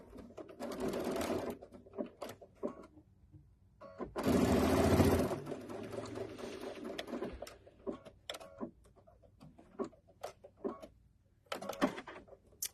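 A sewing machine stitches a fabric tote bag in short bursts: a brief run, a longer loud stretch of stitching, then scattered clicks and handling noises, close and without talk.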